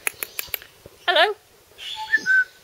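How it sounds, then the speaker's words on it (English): An umbrella cockatoo at a bird park calls with a quick run of short, sharp chirps followed by two longer whistling squawks, close and clear with little background noise. "Now then, I'm an umbrella cockatoo."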